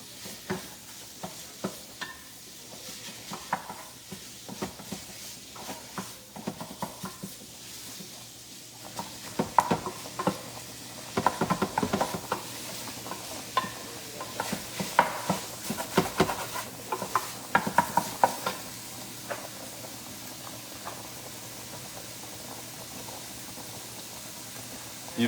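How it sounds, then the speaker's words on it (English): Italian ground turkey sausage meat browns in a pan with a low, patchy sizzle, broken by scattered clatters of a utensil scraping and stirring, louder in the middle stretch and quieter toward the end. "Let's get our meat brown"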